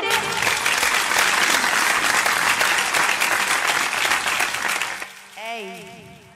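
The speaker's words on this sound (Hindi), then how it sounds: "हमारी झांसी की रानियों की तालियां देख ले" Women in the audience at a jagran devotional night clap loudly and continuously, a thick roar of applause that fades after about five seconds into music with a sung voice.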